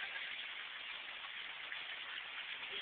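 Rain falls outdoors as a soft, continuous, even patter, faint and muffled, with no voices over it.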